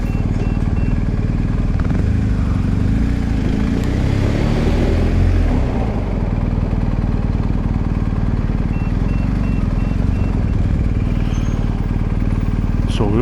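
A BMW R1250GS motorcycle running, with a loud, steady engine rumble and rushing noise that stays constant throughout, close to the listener.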